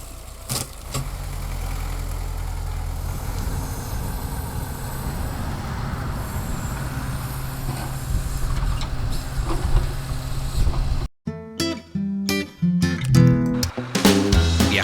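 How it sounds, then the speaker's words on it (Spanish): A small tractor in a snowy Pyrenees forestry site, moving cut logs for biomass toward a truck, runs with a steady engine rumble, then clanks and knocks sharply as the logs are handled near the end. "se transportan con ganchos como estos a este pequeño tractor, que se encarga de acercarlos al camión"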